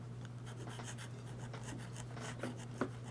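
Sheaffer fountain pen writing on Field Notes memo paper, faint close scratching strokes in short irregular bursts over a steady low hum, with no talk.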